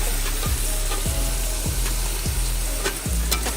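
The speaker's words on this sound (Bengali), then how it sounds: "মশলা কষানো হয়ে গেছে, এখন আমি মাংসগুলো সব দিয়ে দিলাম" Chicken pieces sizzle loudly in a pan of cooked-down spice paste over a village cooking fire, a steady frying hiss broken by several regular scraping stirs about every half second.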